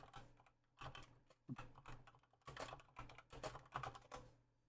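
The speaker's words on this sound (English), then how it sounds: "You hear typing" Rapid bursts of typing clatter on a computer keyboard, keys tapped in quick uneven runs with short pauses between, close and fairly quiet.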